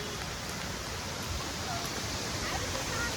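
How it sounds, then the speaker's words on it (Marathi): A small waterfall splashes steadily outdoors in nature, a dense, even wash of falling water that fills the whole scene at constant loudness with no pauses. "इथं छोटासा धबधबा आहे हा."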